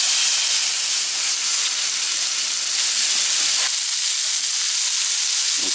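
A venison roast sears in a hot pan, its edges pressed down: a loud, continuous close sizzle and hiss that fills the whole stretch with no pause.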